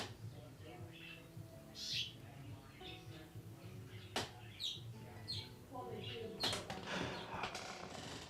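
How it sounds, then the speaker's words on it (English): Birds chirp outdoors in short, scattered high calls, faint and somewhat distant, with a quiet background and occasional soft clicks and creaks; a voice speaks briefly. "Can you hear those birds?"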